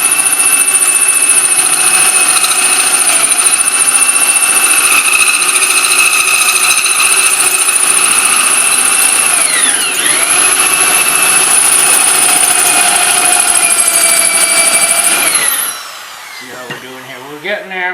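A drill press runs steadily and loudly with a strong tonal whine for about fifteen seconds, its pitch dipping briefly midway, then it cuts off and spins down, leaving a few faint knocks.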